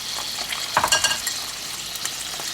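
Onions sizzle and crackle in a hot pan, with a spoon clinking and scraping as they are stirred; steady frying hiss throughout, no talking.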